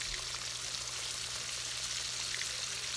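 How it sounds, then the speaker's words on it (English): Crappie fillets fry in a pan of grease and butter, giving a steady, close sizzle and crackle that runs unbroken throughout with no talking. "Okay, so we got a couple in the frying pan."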